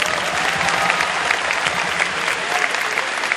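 Lecture audience at Universitas Pelita Harapan applauding in a hall, a dense, steady wash of many hands clapping throughout without pause.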